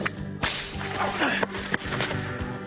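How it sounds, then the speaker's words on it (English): Sharp whip cracks and swishes come in quick succession at close range, with tense shouting voices in the scene around them. "Joel, put the whip down"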